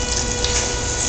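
Steady, close water spray from a shower head or hose while a cat is bathed, a continuous hissing gush with no talking.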